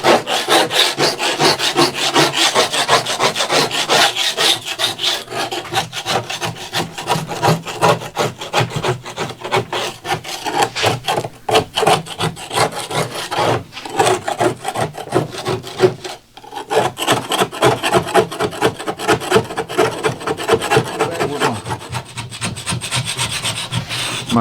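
A sander works over a Ranger boat compartment lid, giving a continuous loud, close rasping and scrubbing with rapid rhythmic strokes and a brief dip midway, no voices present.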